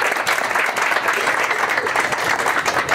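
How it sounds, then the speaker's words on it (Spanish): A crowd gives sustained applause for architect José Manuel Gaeta Carrión at a groundbreaking ceremony for a park in the Lomas del Refugio neighborhood; dense, even clapping continues loud throughout without a break. "un fuerte aplauso para él, por favor."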